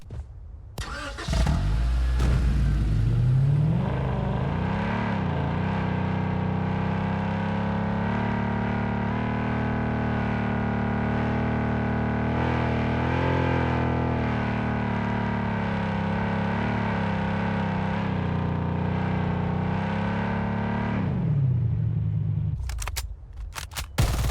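A loud vehicle engine in the shooter game Blood Strike starts, then drones at a steady mid-pitched rumble for about twenty seconds with slight rises in revs before cutting off abruptly.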